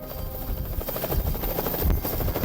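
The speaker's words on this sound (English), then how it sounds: "By the time the chopper landed at Blessing Hospital, Katie was stable" Helicopter rotor chopping steadily and loudly throughout as it flies in to land at a hospital, a continuous close thumping drone with no voices.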